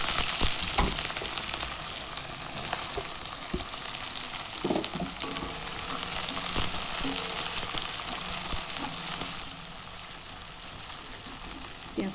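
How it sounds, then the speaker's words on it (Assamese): Onions fry in a pan with a loud, dense, continuous sizzle, broken by occasional stirring clicks and scrapes, with no talk over it. "পিঁয়াজখিনি ৰঙা হোৱাকৈ ভাজি ল'ম"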